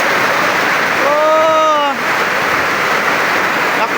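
Heavy storm rain pours steadily in Laos, a dense broadband hiss that fills the whole clip, with a brief tonal call or voice rising over it for about a second midway.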